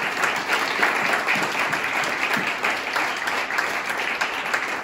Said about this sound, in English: Let's give them a big round of applause for being here tonight